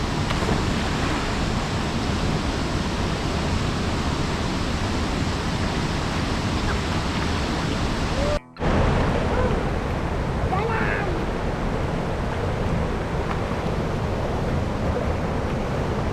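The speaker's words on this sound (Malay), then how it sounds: "Itu ada air terjun." A hidden waterfall at Lubok Degong pours as a dense, continuous broadband rush of falling water, loud and steady, broken by a brief dropout midway.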